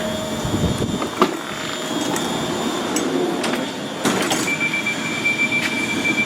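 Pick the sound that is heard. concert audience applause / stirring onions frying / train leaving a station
train leaving a station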